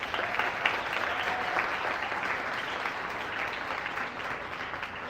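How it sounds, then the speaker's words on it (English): An audience at a scholarship gala applauds its volunteers with steady, dense clapping that holds evenly throughout, with no voices over it. "can we give everybody who volunteers applause for them now?"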